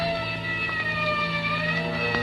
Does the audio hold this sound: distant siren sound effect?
yes